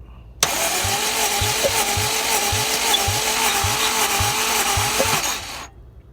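The K20Z3 engine of a Honda Civic Si cranks on the starter during a compression test, giving a loud, steady whir with an even, repeating pulse of about ten beats that stops abruptly after roughly five seconds.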